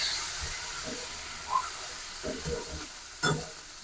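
Potatoes frying in spices for a rohu fish curry sizzle and hiss as water is added, a steady sizzle broken by a few crackles and bubbling pops, close and fairly quiet.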